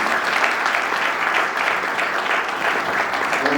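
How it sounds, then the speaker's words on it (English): Sustained, loud audience applause for a government minister from the Office of the Prime Minister at a book launch, a steady dense wash of clapping with no pauses. "Can we give her a round of applause?"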